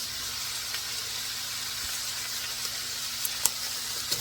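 Shrimp frying in a pan give off a steady, soft sizzle and hiss throughout, with a few small pops and crackles near the end and no talking.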